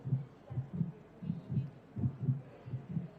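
A heartbeat sound effect during a World Pickleball League broadcast, a steady low double-thump pulse repeating roughly twice a second, loud and clear with no talk over it.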